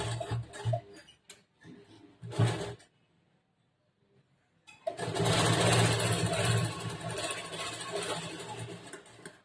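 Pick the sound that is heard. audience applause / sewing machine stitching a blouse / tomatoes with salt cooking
sewing machine stitching a blouse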